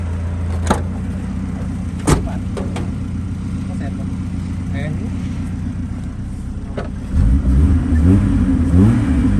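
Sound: car engine revving

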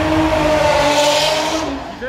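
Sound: Subaru V8 car engine revving at a drift meet

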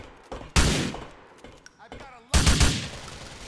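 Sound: gunfire in the video game GTA 4

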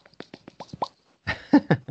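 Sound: person imitating the sound a fish makes

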